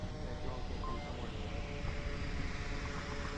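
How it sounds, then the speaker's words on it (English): In the VR shooter game Onward, a drone gives off a steady droning hum like a vacuum cleaner, held at an even level for the whole stretch with a faint whine on top. "And there is the drone. Sounds like a vacuum."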